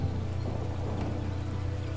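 Rain in the video game Under the Ocean patters in a constant, uniform hiss, moderately loud and unbroken, with a faint low hum beneath and nobody speaking.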